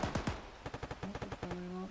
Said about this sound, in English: Gunshots from up in that